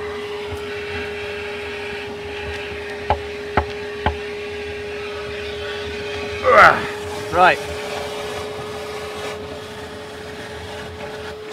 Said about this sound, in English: the giant suction hoover from a dentist